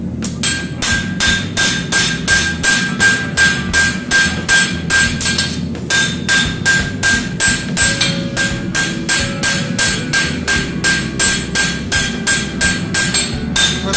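A hammer flattening a horseshoe during forging, striking in a fast, even rhythm of sharp ringing blows, close and loud, with a brief pause midway and no talking.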